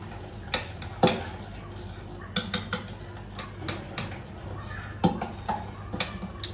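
Soaked ragi is being stirred in a bowl, with intermittent spoon clicks and taps against the dish ringing out close by over a soft background hum.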